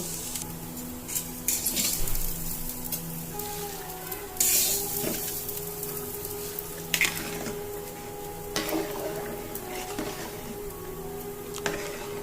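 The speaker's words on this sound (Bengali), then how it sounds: "চালটা সাদা সাদা হয়ে ওঠা অবধি এরকম নেড়ে নেড়ে ভাজুন" Rice for khichuri is stirred and dry-fried in a pan, a constant low sizzle broken by repeated scraping strokes of the spatula against the metal, close and fairly loud, with no voices.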